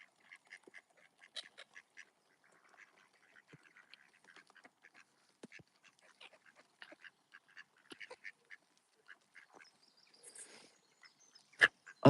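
Several ducks quack in short, scattered calls with quieter pecking and rustling between them, and a few sharper, louder calls come at the close.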